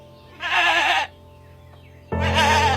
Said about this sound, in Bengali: ছাগলগুলো ডাকছে।